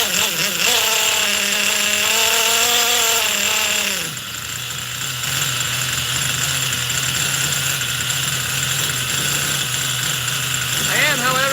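A Force .25 CNC model glow engine runs during break-in, a loud steady high-pitched buzz that dips briefly around four seconds and then settles into a slightly rougher drone with faint talk underneath.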